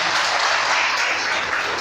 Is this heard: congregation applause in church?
yes